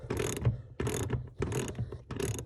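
A socket ratchet loosens a bolt on a 1986 Buick Grand National, giving four close bursts of rapid pawl clicking separated by short pauses, with no talking.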